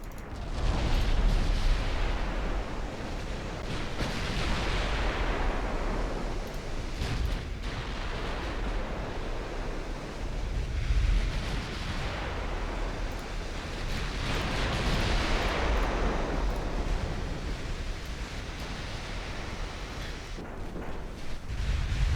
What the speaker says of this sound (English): Oh, that was a 15-inch hit.